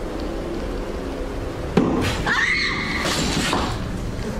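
A sudden sharp boom inside an air shaft, followed moments later by a woman's high, terrified scream rising over a dim, noisy background.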